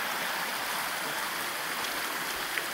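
Steady broadband rush of stream water flowing at the Grand Canyon, continuous and fairly loud with an even texture throughout and no voices present.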